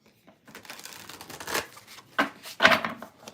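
Close hands shuffling a deck of tarot cards, a few soft riffling bursts and crisp card flicks building in the last second, with no voice.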